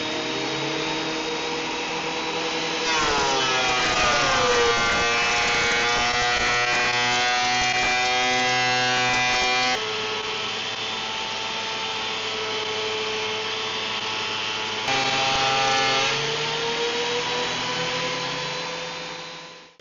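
A DeWalt DW734 benchtop planer fitted with a helical cutter head feeds a white oak board: a loud, steady motor whine rises into a dense cutting roar under load, drops back briefly, then bites in again before running down.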